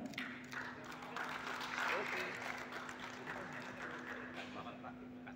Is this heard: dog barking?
no